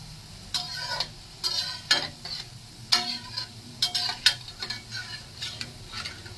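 Boondi batter drops through a perforated ladle into hot oil, sending out a continuous sizzle broken by sharp bursts of crackling each time fresh batter hits the oil. The sound is close and there is no talk.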